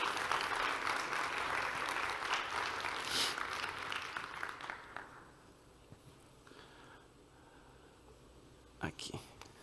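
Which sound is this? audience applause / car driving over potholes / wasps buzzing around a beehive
audience applause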